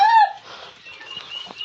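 A single sharp squawk from one of the new chickens in a village shed near Jagtial opens, followed by faint, scattered clucks and rustling close by.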